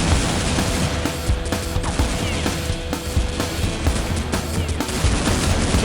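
Pistol fire in Counter-Strike 1.6 on a handguns-only map, dense rapid shots and sharp cracks layered over busy game noise, steady and loud throughout.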